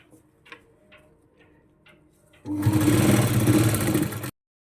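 A sewing machine stitches along folded blouse fabric in a loud, steady rapid ticking burst lasting about two seconds, after a few quiet clicks and handling sounds.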